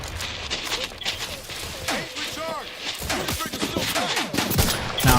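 Rapid gunfire in The Outer Worlds 2, a sci-fi shooter game, with dense bursts of shots, impacts and scattered voices running continuously throughout a chaotic firefight.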